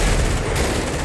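Tanks blowing up in GTA, a loud, continuous explosive roar filling the short stretch without any pause, thick low rumble throughout and no voices.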